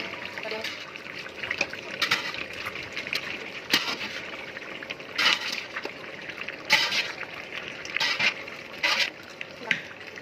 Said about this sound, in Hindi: ये अब मैंने ये अब बॉयल आलू जो हैं उनको ऐड करना शुरू कर दिया है।